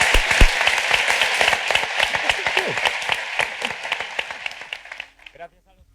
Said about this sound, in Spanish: Gracias y el aplauso de la gente que ha venido por sus libros, por sus palabras, por su presencia aquí.